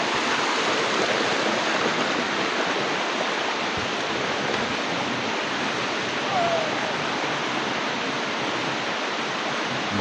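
A rain-swollen waterfall roars in a dense, unbroken wash of rushing water, loud and close, with no voices above it.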